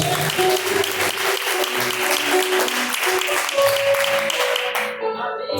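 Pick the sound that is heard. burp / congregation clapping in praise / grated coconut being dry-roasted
congregation clapping in praise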